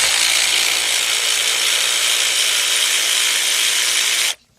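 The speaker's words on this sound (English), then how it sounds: "I'm using a 14 millimeter deep 3/8 drive, my cordless ratchet" A cordless ratchet with a 14mm deep 3/8-inch drive socket spins out a bolt on a Honda engine during head gasket and timing belt work, a steady loud whirring buzz lasting about four seconds before cutting off abruptly.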